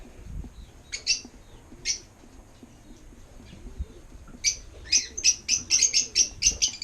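Pet African lovebirds in nest boxes give bright, high chirps, a few scattered at first and then a quick run of repeated tweets toward the end, close by over a quiet background.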